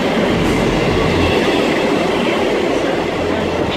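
A Great Western Railway Class 158 diesel unit pulls into Bristol Parkway station, giving a steady, loud rolling rumble with wheel and engine noise throughout and no talking.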